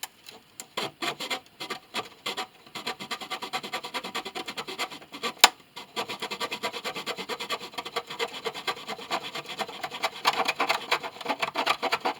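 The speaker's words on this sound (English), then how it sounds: "A little freehand sawing here." Hand saw rasping through wood in quick back-and-forth strokes, close and fairly quiet, with short pauses between bursts, freehand sawing during a cello restoration.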